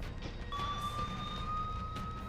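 Police and security force vehicle sirens wail faintly in the distance, heading to a shooting scene on a highway near Nagrota, a thin steady tone over low rumbling background noise.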